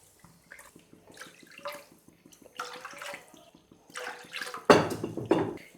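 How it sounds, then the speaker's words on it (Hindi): Four cups of water poured into a cooking pot with spiced rice and chillies, a close, splashing gush that builds to a loud pour near the end, following some softer kitchen clatter. "चार कप पानी ऐड करते हैं"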